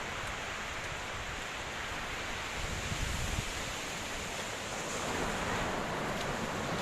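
Sea waves wash onto a beach at Oarai, Japan, a steady broadband roar of surf with wind buffeting the microphone throughout, loud and continuous with slight swells.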